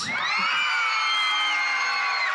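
High, sustained screams from a crowd of children at a town festival fill the whole stretch, loud and close, with overlapping voices shrieking together throughout.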